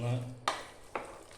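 Beef and plantain are stirred in a spoonful of ghee in a pan: after a brief voice, two quick scraping stirs sound close up over a faint sizzle.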